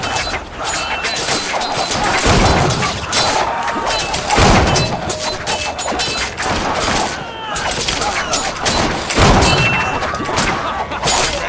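A Caribbean Legend video game battle brings a rapid fusillade of shots with heavy thuds and crashes. Repeated loud peaks come in irregular bursts, with faint voices beneath.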